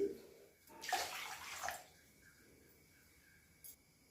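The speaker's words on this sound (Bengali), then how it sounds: "আমি কড়াইতে এখন 2 কাপ জল দিচ্ছি।" Two cups of water are poured into a wok while making homemade papaya tutti frutti. One brief splashing pour lasts about a second, followed by quiet.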